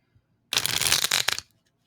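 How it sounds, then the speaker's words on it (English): A single quick riffle shuffle of a deck of playing cards, a dense crisp burst lasting about a second, close and clear with no talking. "that was a bad shuffle"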